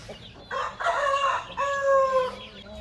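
A one-year-old long-tailed rooster of about 3.5 kilos crows nearby, a loud drawn-out call broken into a few rising and falling segments.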